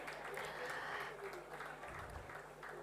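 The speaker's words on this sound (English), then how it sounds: "Please welcome him with a very big round of applause," Audience applause welcoming a guest, the National Coach of the Indian badminton team, at an auto summit; steady moderate clapping from a seated crowd runs throughout.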